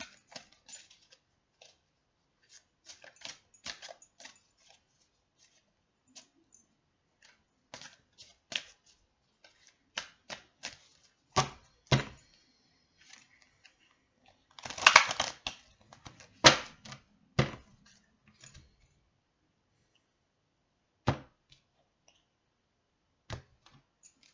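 Oversized playing cards being shuffled by hand, giving scattered dry flicks and riffling clatters with one denser burst midway, close and fairly quiet, with long gaps between the bursts.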